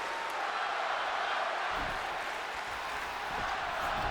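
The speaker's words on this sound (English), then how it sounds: "Fans are cheering for Ronda Rousey" A video game wrestling arena crowd in WWE 2K20 gives off a steady, dense wash of cheering and crowd noise, constant and fairly faint, with no distinct peaks.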